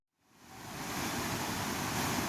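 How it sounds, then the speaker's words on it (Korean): A stream swollen by monsoon rain, on the way to the Juosa temple site in Yeoju, rushes in a steady broadband roar that swells up from silence within the first second and then holds constant and close. "장마로 인해 불어난 개울물"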